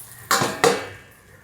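A metal lid set onto a cooking pan after a drizzle of oil, giving two quick, close clanks about a third of a second apart, each ringing briefly before fading into a quiet kitchen background.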